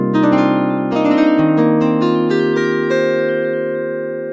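A Pigments 6 software synth plays sustained harmonic notes with a lengthened envelope release, several overlapping tones entering in quick succession and then ringing out, slowly fading at the end, clean and close with no talking.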